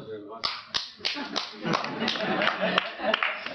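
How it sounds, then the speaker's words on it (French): One person claps for an audience at a 25th-anniversary celebration at Les Trinitaires. About a dozen sharp, uneven claps come close and clear, mixed with talking. "je vous applaudis moi"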